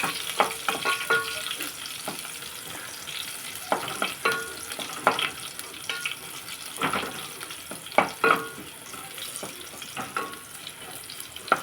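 Brinjal sizzles steadily in oil up close while a utensil scrapes and stirs the pan in irregular bursts, with no talking.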